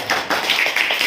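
Children clap and snap their fingers together in a classroom game for showing two-digit numbers, giving several quick sharp claps and snaps in a loose rhythm with no talk.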